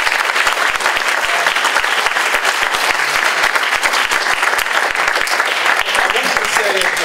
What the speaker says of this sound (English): cheer all of our recipients, all of our speakers, and give them a vote of thanks